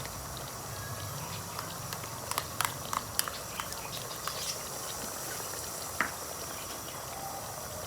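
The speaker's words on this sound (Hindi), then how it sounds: "ये देखिए चिकन अच्छी तरह पक रही है, फ्राई हो जाएगी ये 1 से 2 मिनट में" Chicken frying in a karahi for a Sindhi karahi, a steady bubbling sizzle with scattered soft pops and crackles throughout, heard close and alone.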